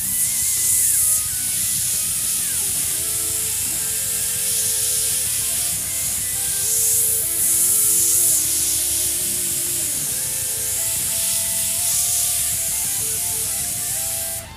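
Close, continuous hiss of spray paint with short swells in intensity, running throughout above a faint tonal background.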